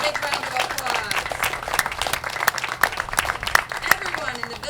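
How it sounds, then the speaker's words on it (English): An audience at a Village of Cleves civic gathering applauds council members, steady crowd clapping at moderate distance with voices talking over it. "Can we give them a big round of applause?"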